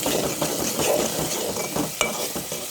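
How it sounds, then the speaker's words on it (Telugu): Onion, green chilli and ginger-garlic paste stirred in sizzling oil in a pan, a steady fry hiss with repeated scraping strokes of a spoon against the pan, close and continuous with no talk. "అన్నీ కలిసేలాగా ఒకసారి కలుపుకుందాం"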